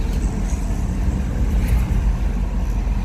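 A Mahindra Bolero extra-long pickup truck drives over a rough, potholed side road, heard from inside as a steady, loud low engine and road rumble with faint rattles and bumps throughout and no talking.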